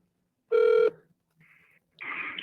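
A phone call comes in, with a short electronic ring tone followed by quieter tonal bursts, brief and close, in an otherwise quiet room.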